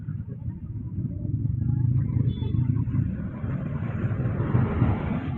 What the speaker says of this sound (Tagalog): Nag-heavy traffic na po, heavy traffic.